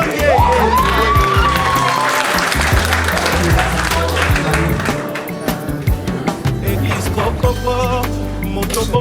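Guests at an official civil wedding ceremony clap for the couple, sustained loud applause that thins slightly toward the end, mixed with music and some voices.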